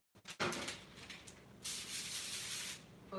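Cooking spray hissing onto a non-stick pan while making a snack, two short breathy bursts, the second longer and steady, close by in a quiet kitchen.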